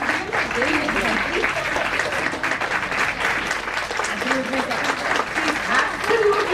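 Sustained audience applause fills a Women's Day celebration hall, a steady wash of many hands clapping with voices mixed in beneath it, holding loud from start to finish.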